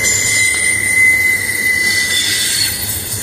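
A freight train pushed by engines at the rear rolls past, its wheels giving a steady, high, piercing squeal over a low rumbling bed of rail noise.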